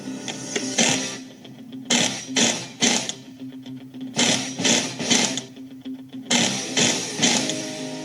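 Bursts of whirring, ratcheting mechanical noise from a torque wrench tightening come in several short clusters, loud and close, separated by quieter gaps with a steady low hum underneath.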